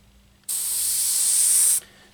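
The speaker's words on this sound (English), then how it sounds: "I spray literally right on the edge of paper" A single close burst of spray paint hisses for just over a second as a light mist goes onto a low-rider saw along a paper masking edge during pinstriping work, with quiet before and after.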